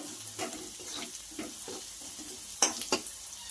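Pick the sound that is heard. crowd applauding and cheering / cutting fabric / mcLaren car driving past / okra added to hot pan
okra added to hot pan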